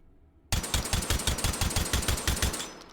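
A suppressed SPAS-15 shotgun in the VR game H3VR, fired in a rapid, even string of about a dozen muffled thumping shots after a brief quiet start, close and loud.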